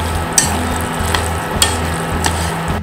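Pasta being stirred through a thick tomato meat sauce in a pan, a soft bubbling sizzle with a low steady hum beneath and four or five regular utensil clicks against the pan.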